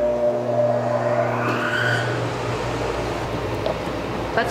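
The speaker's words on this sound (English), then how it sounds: "Let me go start my machines up" Woodworking sanding machines in a shop spinning up, a steady motor hum with rising whine as the machines come to speed, then running continuously and fairly close.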